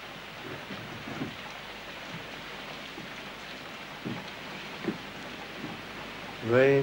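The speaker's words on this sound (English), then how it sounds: "Rain has come at last." Soft, steady rain hiss in the background with a few faint voices murmuring, ending in a brief louder tonal sound.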